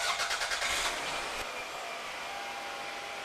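A car engine cranks with rapid repeated pulses and then catches, settling into a steady running hum after a fresh oil change, close and fairly loud with no talking.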